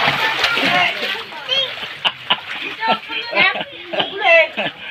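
Floodwater splashing and sloshing close by after Typhoon Carina, amid lively voices and laughter, the splashes coming in irregular bursts under the talk.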